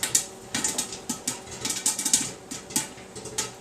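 Kettle corn popping in a pot off to one side, a scattered run of sharp little pops and ticks at irregular intervals, moderately quiet and with no talking.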